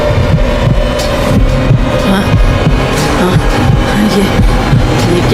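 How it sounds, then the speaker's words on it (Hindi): A heartbeat sound effect in a Hindi horror cartoon set in a haveli pulses steadily and loudly, a low thudding throb repeating under a dense, droning hum with no voices. "तो अपने भीतर मेरी धड़कन सुन"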